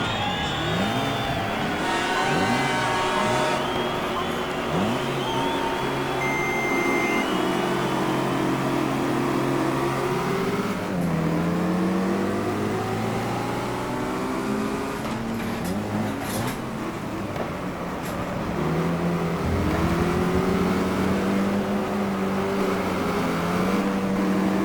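Car engines rev and shift continuously in GT Legends, a racing video game played on a DIY 3DOF motion simulator platform, with rising and falling engine pitch sweeps and occasional tire squeal throughout, loud and steady with no talking.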